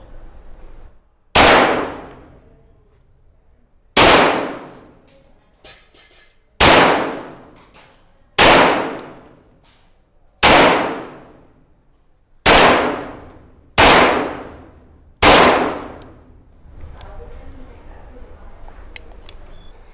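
A new RIA 1911A1 pistol test-fired with FMJ rounds at a range: eight loud, sharp shots spaced a couple of seconds apart, each with a ringing decay, with faint background noise between them.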